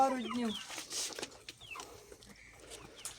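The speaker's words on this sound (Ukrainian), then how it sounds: "У нас тут є різні курочки, різні, багато півників." Hens and roosters in a backyard chicken run: a rooster's crow opens, followed by scattered clucks and squawks from several birds nearby, with rustling in between.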